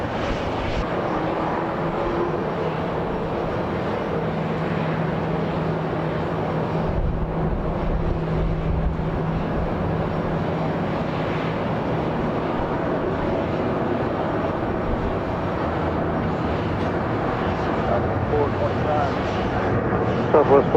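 Jet airliner engine roar at Atlanta Hartsfield-Jackson International Airport, a steady loud rumble that persists throughout, with radio chatter underneath.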